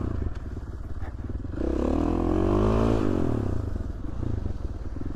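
A dirt motorcycle rides through the Danskin Mountains, its engine loud and close, rising and falling in pitch as it revs and accelerates over the trail, with some clatter from the terrain.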